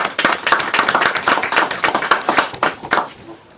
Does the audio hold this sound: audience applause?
yes